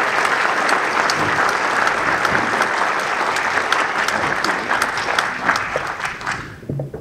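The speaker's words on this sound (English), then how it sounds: "let's give Sajid a great round of applause for a wonderful moderator job" An audience at a healthcare IT conference panel applauds, a full steady wash of clapping with a few sharper individual claps, fading out at the end.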